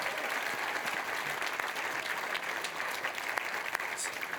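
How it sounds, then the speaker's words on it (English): Audience at a science communication competition final applauding steadily, a dense, even wash of many hands clapping at moderate distance, sustained without pause throughout. "So, collective round of applause, I think,"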